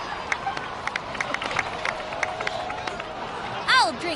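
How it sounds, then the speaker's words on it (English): Crowd applause and cheering at a celebration in Genshin Impact, a dense patter of many hands with scattered whoops, fairly distant, ending in a brief rising chime-like sweep. "please give another round of applause for them"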